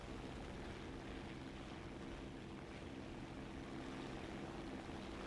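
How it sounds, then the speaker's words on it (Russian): A War Thunder airplane drones steadily throughout as a faint, continuous engine roar, with no voices over it. "Опа, самолет летит."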